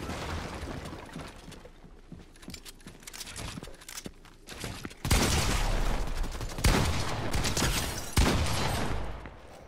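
Sniper gunfire in the video game Fortnite: a few loud, sharp shots crack out in the second half, following a stretch of busier, quieter game noise.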